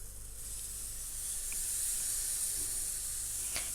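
Waffle batter hisses in a hot stovetop waffle maker, a steady close sizzle with one brief sharper spurt near the end and no talking.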